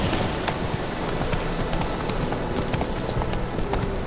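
Horse hooves clip-clopping at a steady trot in The Witcher 3, a dense continuous patter of hoofbeats over a constant game ambience, moderately loud and without any speech.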